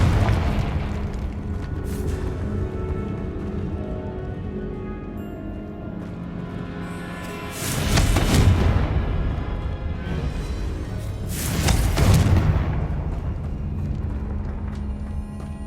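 Two heavy, booming Confringo spell explosions in the Hogwarts Legacy video game, each a loud burst with a rumbling tail, several seconds apart over a tense orchestral score.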